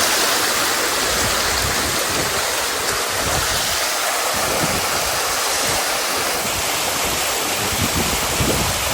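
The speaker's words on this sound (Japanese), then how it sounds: "もう川あったところの水が全部こっちから流れてきて" Floodwater rushing loudly and steadily through the former riverbed after torrential rain in the Osawa district of Sakata, Yamagata, a dense unbroken roar with some wind buffeting on the microphone.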